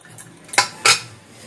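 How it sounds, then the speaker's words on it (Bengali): Two quick metallic clanks of a pressure cooker lid and pot being opened after cooking biulir dal, sharp and close, with faint background hiss between them. "সিটি পড়ার 10 মিনিট পর প্রেসার কুকারটা খুলে নিচ্ছি।"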